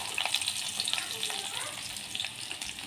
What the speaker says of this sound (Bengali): তেল গরম হয়ে গেছে, এখানে আমি রসুন কুচিগুলো দিয়ে দিচ্ছি।